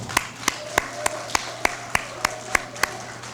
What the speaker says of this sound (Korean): 이인영 최고에게도 감사의 박수를 보냅니다